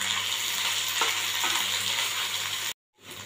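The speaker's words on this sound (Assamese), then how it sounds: "এইখিনিও মই ভাজি লওঁ অলপ।" Ginger-garlic paste fries in a pan with a dense, steady sizzle, loud and close, briefly cutting out near the end before resuming.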